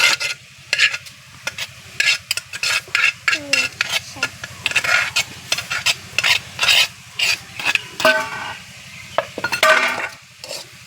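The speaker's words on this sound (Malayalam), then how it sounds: "ചക്കക്കുരു ഇട്ടു അതിലേക്ക്." Jackfruit seeds fry with moringa leaves for a stir-fry, stirred briskly in a pan: rhythmic scraping strokes and utensil clinks repeat over a soft sizzle, close and without speech.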